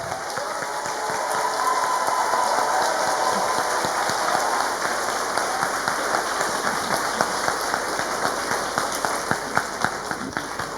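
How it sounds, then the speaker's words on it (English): Sustained applause from an audience in a university auditorium at a ceremony, dense steady clapping filling the room, with no voices heard. "Please give us a round of applause."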